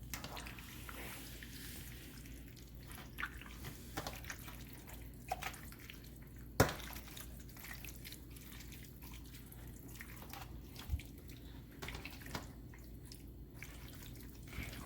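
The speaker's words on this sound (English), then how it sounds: "we're gonna add some of this marinade in there" Marinade poured over a boneless Thanksgiving turkey makes faint, sparse liquid drips and soft wet squishes against a quiet room background, with no talking.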